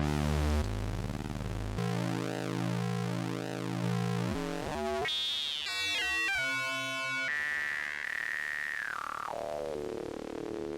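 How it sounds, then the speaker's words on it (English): Synthesizer tones warped by a ring modulator on an Empress Zoya pedal, producing metallic, clangorous chirps and sweeping pitches that bend and wobble, moderately quiet and continuous without voices. "I've got a ring mod that I've programmed here on the Empress Zoya"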